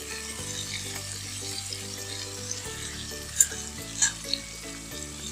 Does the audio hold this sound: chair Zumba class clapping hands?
no